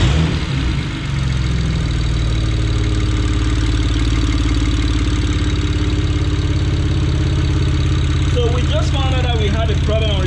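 A BMW N54 twin-turbo engine idles steadily after new spark plugs and ignition coils, a loud continuous close-up drone with a slightly loud turbo noise; a voice comes in near the end.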